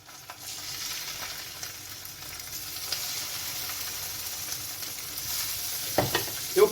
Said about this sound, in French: Donc là, vous mettez votre poisson à cuire.